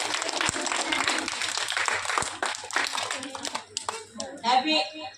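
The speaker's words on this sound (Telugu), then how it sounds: "అందరు క్లాప్స్ కొట్టండి." An audience claps in a sustained burst of applause at an Independence Day program, then fades out while children's voices and chatter take over.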